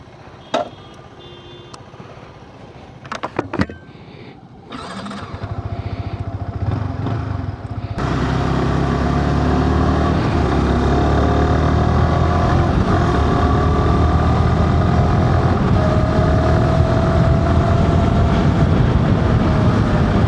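A Yamaha R15 V4M motorcycle ticks and clicks at first, then its engine rises into a loud, steady riding roar with rushing wind that stays constant to the end.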